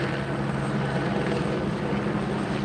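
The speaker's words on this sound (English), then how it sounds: "still they got the helicopter out here" A police helicopter hovers overhead during a nighttime search in Phoenix, its rotor a loud, steady, unbroken thrum throughout.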